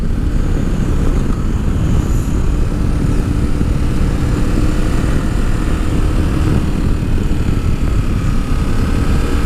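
KTM 1050 Adventure motorcycle accelerating on the road, a steady loud engine drone with constant rumble and wind roar throughout, no voices.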